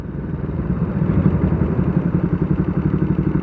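A motorcycle fitted with a loud aftermarket exhaust rumbles close by during a Sunday ride near a railway station, its deep engine note throbbing in a fast, steady pulse throughout with no talking.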